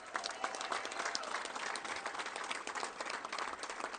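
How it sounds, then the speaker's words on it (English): Steady applause from a crowd at a Chicago mayoral concession speech, dense clapping that stays loud and even throughout without any pauses. "Let's give him a round of applause"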